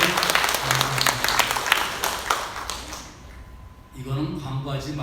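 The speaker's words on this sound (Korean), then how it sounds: "우리 박수 한번 쳐주시고" Congregation applauding during a Sunday church service; scattered, fairly loud clapping for about three seconds, then it dies away and a voice begins speaking.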